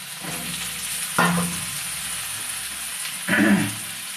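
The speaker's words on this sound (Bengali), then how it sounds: "তেল গরম হয়ে গেছে, আলুগুলোকে লাল লাল করে ভেজে নেওয়া হবে।" Potatoes frying in hot oil, a continuous sizzle with two louder bursts of scraping and stirring, no voices.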